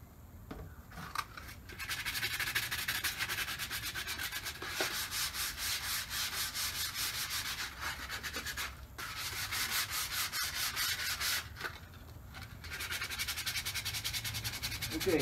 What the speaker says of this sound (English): now that we've got our board all sanded out